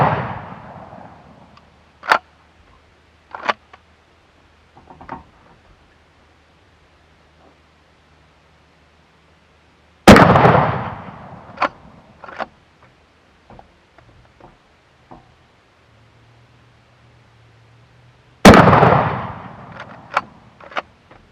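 Converted shotgun fired at a target on an outdoor range: three loud, sharp gunshots spaced several seconds apart, each with a ringing decay, separated by quiet stretches with small clicks and handling noises.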